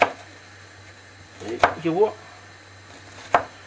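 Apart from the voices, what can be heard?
chopping onion into small cubes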